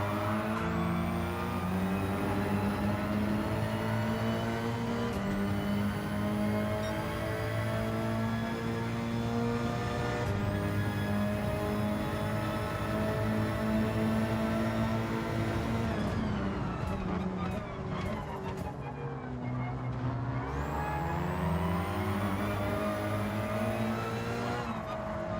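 Hyundai Elantra BTCC race car engine in Gran Turismo 7 drones and revs continuously, climbing through repeated upshifts with sharp pitch drops between gears, then braking and downshifting before accelerating again, loud and steady with no talk.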